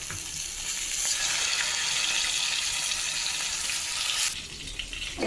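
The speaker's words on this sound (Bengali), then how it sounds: "আর এই পাশে আগের একটু লাউ তরকারি ছিল, এগুলো গরম করে নিচ্ছি" Leftover bottle gourd curry reheating in a pan gives a steady, close sizzle and frying hiss with faint stirring scrapes, running evenly for over four seconds before settling down near the end.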